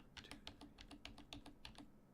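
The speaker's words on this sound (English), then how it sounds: "If we type in the 8 A's" Rapid keystrokes on a computer keyboard, about a dozen crisp clicks in an even run, near but quiet, with no voices.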